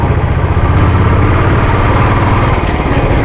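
A Royal Enfield Bullet motorcycle engine pulling away and running up through the gears, a loud, close, thumping low rumble that holds steady for a few seconds with no voices.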